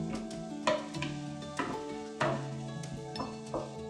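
Shiitake mushrooms sizzle and crackle in a pan while a utensil clinks and scrapes against it at intervals, stirring through the frying.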